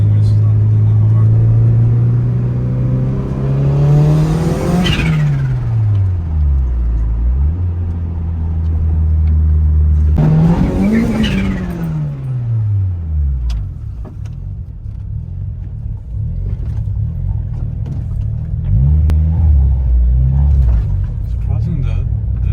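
A 30-year-old turbocharged Honda engine revs hard twice, each sweep climbing and falling back to a loud steady idle, close by, with voices talking over it.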